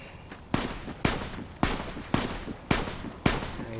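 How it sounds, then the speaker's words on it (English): Six sharp gunshots in the video game Fallout: New Vegas ring out at roughly even half-second intervals, each a crisp crack with a short decaying tail, with no talk over them. "I hear gunfire."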